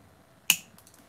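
A single crisp snip of scissors cutting craft material, close and brief, in an otherwise quiet room.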